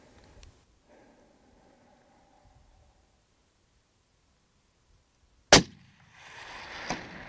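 A single sharp rifle shot fired at a kudu on a hunting safari cracks out loud and close after a long quiet stretch, then fades into a low rushing rustle.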